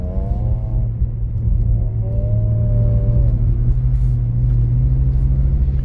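BMW E46 engine held at low revs while drifting uphill on snow, a loud continuous close rumble with a steady droning pitch that rises and falls gently, no voices.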